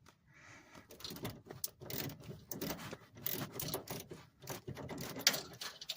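Ratcheting clicks from tightening a bolt on a VW bus drag link steering arm, a quiet, irregular run of short mechanical clicks and turns heard close up, with no talking.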